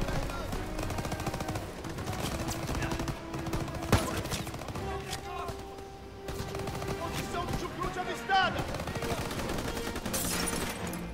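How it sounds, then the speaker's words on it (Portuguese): Gunfire in the World War II shooter Call of Duty WW2, bursts of rapid automatic fire and single shots repeating through most of the stretch over a busy game soundscape, with voices talking at points. "Atirei no cara, o cara não morreu"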